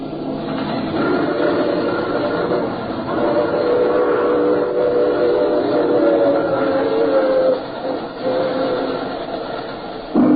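A steady train rolling along as a sound effect in an old radio mystery drama, a continuous rumble with rhythmic clatter, fairly loud and unbroken until a short dip near the end, with no voices over it.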